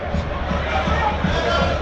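Southend United and Oldham Athletic football fans fill the stadium stands with a steady roar of crowd noise, a broad continuous hubbub with faint rhythmic drum thuds under it.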